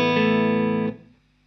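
Electric guitar played through a Matchless amp routed from a GigRig G3 switcher, a single strummed chord held loud and steady, then choked off with a short fading tail.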